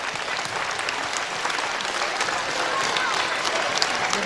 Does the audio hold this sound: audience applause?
yes